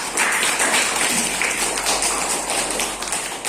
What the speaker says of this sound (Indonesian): Yuk, sekarang kita beri tepuk tangan untuk kita semua.